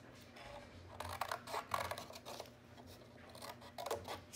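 Scissors snip paper into rectangles, squares and triangles for a first-grade castle art lesson. Several quiet, close, irregular cuts sound with light rustling between them.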